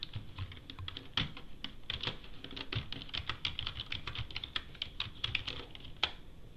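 Quick, irregular clicks of computer keys sound close by as a command is typed at a terminal, a light patter of keystrokes with short pauses between bursts.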